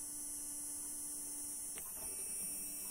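A faint, steady electric hum runs without a break, low and constant, from a small hobby DC motor spinning quietly nearby.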